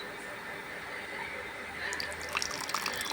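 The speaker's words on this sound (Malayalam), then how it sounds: "ഇപ്പോൾ പുളിവെള്ളം ഒഴിച്ചു കൊടുത്തിട്ടുണ്ട്" Tamarind water trickles and splashes into a pot of sambar, growing louder with some dripping near the end after a quiet stretch.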